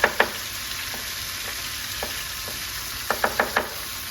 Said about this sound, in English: Okay, so our tomato paste is cooking off there.